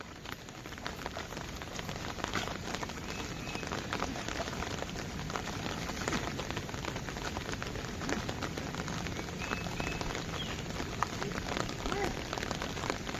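Water from a rain-swollen paddy field runs out through a breached earthen bund in Konkan, a continuous close splashing and gurgling rush at an even level throughout.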